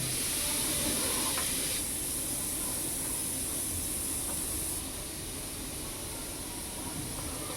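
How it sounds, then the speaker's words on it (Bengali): A pressure cooker of mutton soup on the stove vents steam through its whistle, making a steady, breathy hiss that carries on throughout with slight shifts in intensity, heard from a short distance with no voices. "আর সিটি শুনতেই পাচ্ছে, ওখানটায় হচ্ছে মটন স্যুপ"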